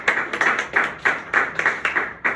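Hands clapping in a quick, regular rhythm at a church service, about ten sharp claps in a row, close and fairly loud with no talk.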